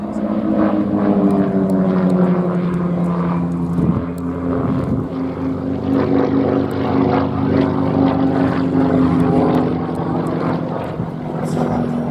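Propeller aircraft flying overhead at the Shuttleworth airshow, a steady loud droning engine hum with shifting harmonic tones that rises and eases slightly as it passes, continuous throughout.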